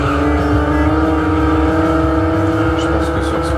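A Ferrari engine in the video game Super Runabout 2000 drones steadily at high revs, a sustained synthetic buzz with a brief pitch rise near the end and some talking under it.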